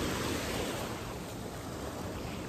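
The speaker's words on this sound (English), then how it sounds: "you got waves everywhere, and apparently that's happens at the beach" Ocean waves break at a beach in a continuous broad rushing wash, loud and steady, with some wind buffeting and no voices.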